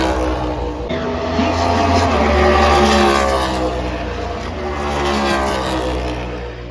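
A race car engine at the Mission 200 race, held at a high, steady drone that swells and eases slightly through the lap, loud and continuous with no speech.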